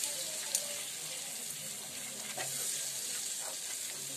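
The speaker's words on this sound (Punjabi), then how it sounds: "ਮੱਖਣ ਜਿਹੜਾ ਸਾਡਾ ਮੈਲਟ ਹੋ ਗਿਆ ਹੈ, ਹੁਣ ਅਸੀਂ ਇਹਦੇ ਵਿੱਚ ਪਾਵਾਂਗੇ 1 ਚਮਚ ਮੈਦਾ। ਮੈਦੇ ਨੂੰ ਵੀ ਪਕਾ ਲਾਂਗੇ ਇਹਦੇ ਨਾਲ ਹੀ," Flour cooks in melted butter in a pan with a soft, continuous sizzle, faint and close, broken by a few light clicks of stirring.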